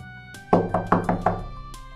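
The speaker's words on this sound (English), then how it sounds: "there was a knock on the door." Five quick knocks land on a door in a steady burst, close and sharp, followed after a short pause by one more lone rap, with a faint steady hum in the quiet room behind them.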